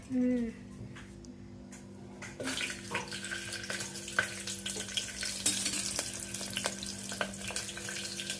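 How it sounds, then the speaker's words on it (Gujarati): After a short hum, potatoes, tomatoes and chillies start frying, a quiet, crackling sizzle with scattered pops that continues steadily. "બટેટા ટમેટા ને મરચા તળવાના છે"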